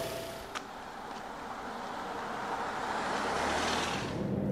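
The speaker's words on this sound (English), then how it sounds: "it kind of sounds like a diesel, this petrol engine" Inside a 2023 Alfa Romeo Stelvio Veloce facelift with a petrol engine that sounds diesel-like, cruising on a German Autobahn in dynamic mode; a steady, close cabin drone of engine and road noise fills the clip without talk.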